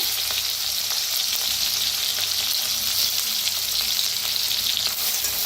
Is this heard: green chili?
yes